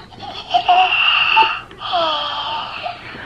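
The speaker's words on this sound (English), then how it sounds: "She's actually snoring." Luvabella baby doll toy giving a soft, wheezy snore in two drawn-out breaths, close and fairly loud, with no speech.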